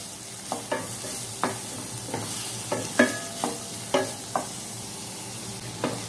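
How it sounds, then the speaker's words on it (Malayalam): Onion, green chilli, ginger and curry leaves sauté in a pan for a broccoli egg thoran. A spatula scrapes and taps in an uneven rhythm over a low, steady sizzle, close and fairly quiet. "ഇനി ഒന്ന് ചെറുതായിട്ട് ഇതൊന്ന് വഴറ്റിയെടുക്കും"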